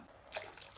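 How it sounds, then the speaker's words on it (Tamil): Water splashes briefly into a pot of simmering Tamil lentil dumpling curry (paruppu urundai kuzhambu) thickened with ground coconut paste. It is a single short pour, close and moderately loud, with no talking. "இனி கொஞ்சம் தண்ணி சேர்த்துக்கலாம்"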